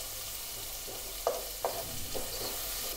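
Onions frying in oil for an egg curry: a steady soft sizzle with a few brief louder spatters and stirring scrapes, close and without talk.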